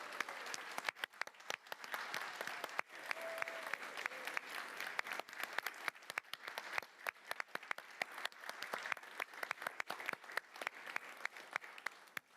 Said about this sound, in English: You did not clap for me that long.